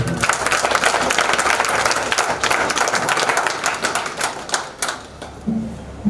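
A crowd at an ashram gathering in Banthra, Lucknow, claps to welcome an arriving guest, a loud sustained wash of many hands that thins toward the end as a voice briefly comes in.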